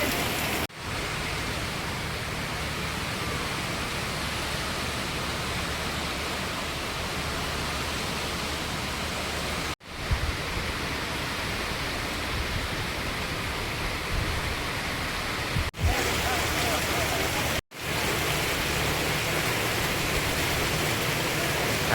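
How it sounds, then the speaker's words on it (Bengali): Heavy rain pours down steadily in a dense, loud, unbroken hiss over open ground, with only a few brief gaps in the roar and no voices. "এত বৃষ্টি হচ্ছে দেখুন"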